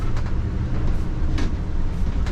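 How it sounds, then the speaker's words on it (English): A gas motorhome rumbling over railroad tracks, a steady low drone with a few sharp clunks and rattles as the wheels cross the rails. "we're about to go over railroad tracks"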